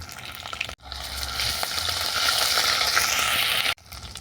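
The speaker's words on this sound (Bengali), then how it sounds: "ফোড়ন ভাজা হয়ে গেলে দেবো আদা বাটা" Ginger paste hitting hot oil tempered with cumin, bay leaf and dried red chilli for a vegetarian mushroom curry, giving a steady close sizzle and crackle that swells after a brief pause and cuts off abruptly.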